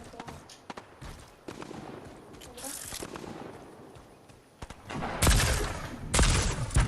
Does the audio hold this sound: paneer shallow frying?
no